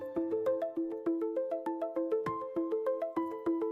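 A mobile phone rings with a repeating electronic melody, a bright plinking pattern of rising notes played in quick regular bursts. It is clear and steady for almost four seconds, with nothing else heard.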